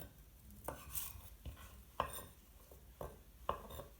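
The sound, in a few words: knife slicing food into julienne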